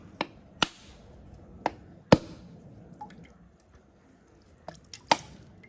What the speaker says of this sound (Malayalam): തേങ്ങ പൊട്ടിക്കുന്ന യുവതി